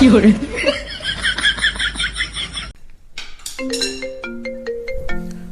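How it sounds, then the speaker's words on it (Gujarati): A mobile phone's incoming-call ringtone plays a bright, stepped electronic melody during a Gujarati husband-and-wife comedy skit, starting midway through and following a stretch of laughter. "તારામાં ફોન આવે છે"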